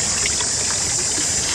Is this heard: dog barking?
no